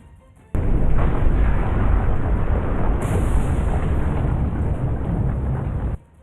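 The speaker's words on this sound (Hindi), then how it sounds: "जल्द ही वहां धमाके होने लगे और गर्म लावा ज्वालामुखी से निकलकर नीचे की तरफ बहने लगा" A sudden loud, deep roar from a volcanic eruption cuts in and rumbles continuously for several seconds like a heavy blast, then stops abruptly.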